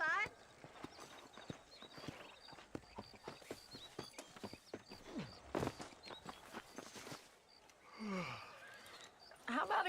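Horse hooves clip-clop at a steady walking pace in the video game Red Dead Redemption, with a faint whinny and people talking over the rhythmic steps.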